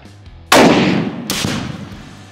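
Two loud gunshots fired at a steel grizzly bear shooting target, a sharp first crack then a second shot about a second later, each trailing into an outdoor echo, with no voices.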